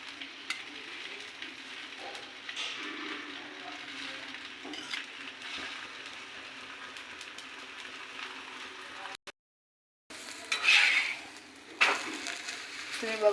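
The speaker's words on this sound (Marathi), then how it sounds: "तव्यावर टाकूया आणि आजूबाजूनं थोडंसं तेल घालूया." A rolled paratha fries on a hot tawa with oil added around its edges, giving a steady soft sizzle with clinks of utensils and a brief gap, no talking over it.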